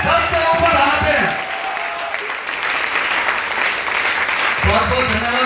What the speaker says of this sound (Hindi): एक बार विद्या के लिए ताली हो जाए